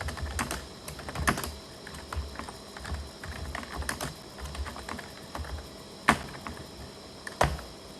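Typing on a computer keyboard while writing in MS Word: a steady run of soft, quick key clicks with a few louder, sharper presses standing out, heard alone and up close.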